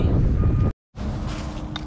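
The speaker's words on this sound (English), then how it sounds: "Oh, and the wind is blowing." Wind blows outdoors on a chilly day and buffets the microphone in a loud, continuous rumble. A brief dropout cuts it off partway through.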